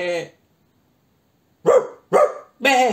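A cartoon dog in a children's animation gives three short, close barks in quick succession, right after a brief spoken word.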